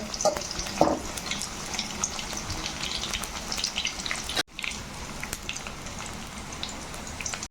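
Jackfruit seed chips frying in hot oil while being stirred: a steady, close sizzle with occasional scraping, briefly cut off partway through before resuming.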